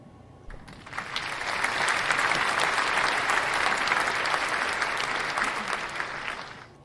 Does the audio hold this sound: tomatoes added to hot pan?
no